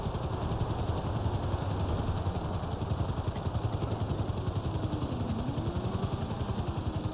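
A helicopter in the video game GTA Online drones with a rapid, steady rotor chop and constant engine whine, loud and close throughout with no talk.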